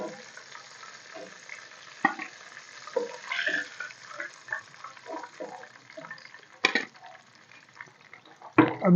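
Fish fries in masala, dhaba style, sizzling steadily in hot oil for about five minutes, with close spattering bursts and occasional stirring or handling clatter over the continuous frying hiss.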